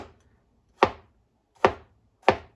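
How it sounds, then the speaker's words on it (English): Three sharp knife chops through peeled zucchini on a cutting board, evenly spaced and close, with quiet pauses between them and no talking. "So we peel the zucchini. Now we're gonna cut them."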